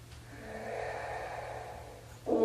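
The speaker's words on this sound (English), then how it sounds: "Breathing here." Steady breathing sustained through a runner-focused yoga pose, a soft continuous airy rush that swells slightly and then ends in a brief sharper burst.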